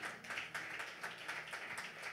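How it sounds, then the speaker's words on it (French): Applause from a congregation during a church service, a dense steady patter of many hands clapping with rhythmic surges, moderately loud and without talk. "Oui, mon frère, ma soeur, tu peux applaudir."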